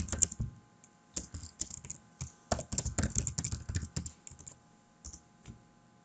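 Close, quiet typing on a computer keyboard at a desk while entering git commands, with bursts of rapid keystrokes separated by short pauses.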